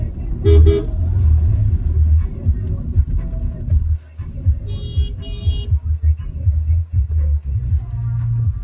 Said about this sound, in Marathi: यांची ट्रॅफिक बघ कुठपर्यंत लागली